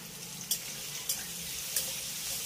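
Potatoes frying in hot oil with salt and turmeric, a steady close sizzle punctuated by three sharp scraping stirs.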